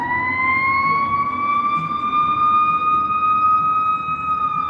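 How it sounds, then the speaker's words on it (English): Fire truck sirens wail continuously, loud and close, with steady rising tones over a low engine rumble and no voices. "As we're reading this, you know, all these sirens"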